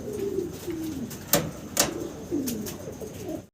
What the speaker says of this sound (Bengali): চমৎকার কালার কোয়ালিটির এক জোড়া মডানা কবুতর দেখতেছে আপনাদের